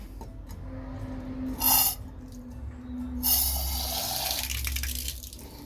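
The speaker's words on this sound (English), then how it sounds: "Right, well, the water's turned back on." Water runs from a tap just turned back on after plumbing work, bursts of broadband rush rising and easing with a steady gushing stream near the end, close and moderately loud with a faint low hum beneath.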